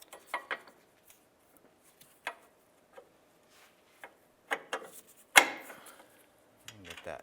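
Nut being threaded by hand onto a Honda Civic sway bar link, giving a run of small, sparse metallic ticks and clicks with one sharper clack, close and quiet, with no talking.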